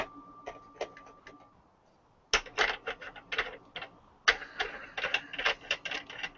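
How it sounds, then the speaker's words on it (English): An ammunition reloading press with a decapping and resizing die works in bursts of sharp, rapid mechanical clacks, separated by short quiet pauses, close and fairly loud. "It's my decapping and resizing die."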